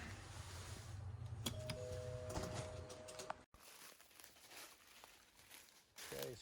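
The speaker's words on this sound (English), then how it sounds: "I think they heard me ring the bell." A house doorbell sounds a faint chime of a few ringing tones, followed by quiet rustling and light footsteps nearby.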